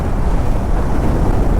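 Strong wind near Kanyakumari buffets a motorbike rider travelling at about 84–85 km/h, producing a loud, steady low roar and rumble with no speech.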